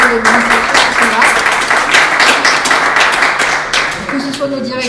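An audience at a general assembly applauds the staff, producing dense sustained clapping at fairly close range that thins slightly near the end, with voices mixed in.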